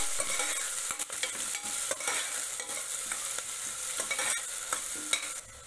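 A spoon scrapes and knocks against a pan while fenugreek khichdi with green chillies and green garlic is stirred, giving repeated sharp clatters over a light sizzle, close up and without talking.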